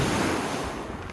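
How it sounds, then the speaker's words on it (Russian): Calm Black Sea surf at Sochi in November, a steady, soft wash of small waves with wind noise across the microphone and no voices. "море в целом спокойное, едва волнуется"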